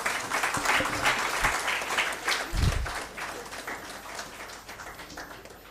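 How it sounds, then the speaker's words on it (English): Audience applause at an agricultural export ceremony for a technical session chairman, a dense sustained patter of many hands with a few louder nearby claps and thumps, steady then gradually thinning toward the end. "Ladies and gentlemen, can we have a round of applause,"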